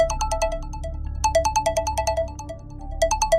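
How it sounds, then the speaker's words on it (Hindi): A mobile phone ringtone plays a quick, bright melodic pattern in repeating bursts, loud and clear. "उस दिन मोबाइल पर आशीष का ही फोन आया था।"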